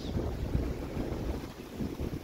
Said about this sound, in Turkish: Uçsuz bucaksız okyanusun ortasında gecenin bu saati yelken yapıyoruz.